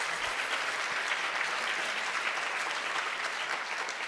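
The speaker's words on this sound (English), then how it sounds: "Give yourselves a big round of applause." A room of hospice and home care staff claps steadily at an annual meeting, a dense, even wash of applause lasting a few seconds.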